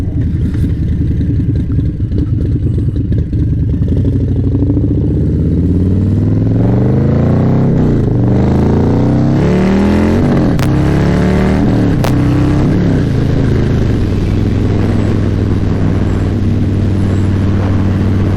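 A Harley-Davidson Breakout motorcycle with a 131 engine and aftermarket tune revs loudly close by, its engine climbing through several throttle blips before settling into a steady, deep rumble.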